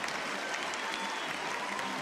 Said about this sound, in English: The crowd, as one, will come to their feet here as Fouts exits the game here